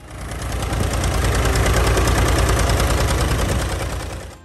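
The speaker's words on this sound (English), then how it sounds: "hearing a Farmall M rumble at idle" A Farmall M tractor engine idles steadily, a loud, continuous low rumble with a fast knocking pulse that holds for the whole stretch without any talk.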